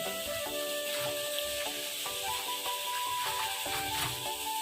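Food frying in a pan, a steady bright sizzle with faint stirring and scraping, heard close over a background of melodic music with no talking.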